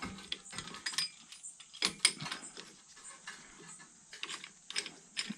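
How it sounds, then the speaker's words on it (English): Ratcheting brake caliper compressing tool cranked down against an old brake pad during a 2005–2006 Honda CR-V front brake job: a close series of crisp, irregular ratchet clicks and metallic clatter, with no talking. "take an old brake pad, stick it in here, our compressing tool"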